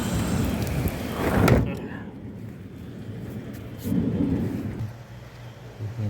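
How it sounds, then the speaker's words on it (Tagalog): Steady heavy rain hisses throughout in Saudi Arabia, with a deep rumbling swell like distant thunder near the start and muffled voices underneath. "Lumakas ang ulan natin."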